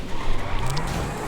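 A Lamborghini in GTA 5 speeding with a loud, steady engine roar as the tires squeal in a rising skid.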